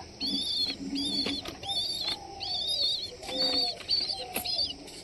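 Pigeons coo in repeated soft, throaty phrases close by, several calls in an uneven rhythm with some rustling between them.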